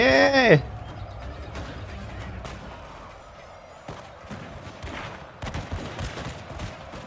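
Gunfire in the Total War: Shogun 2 battle game comes as scattered distant musket shots and crackling volleys, with a brief musical tone at the start and people talking over it.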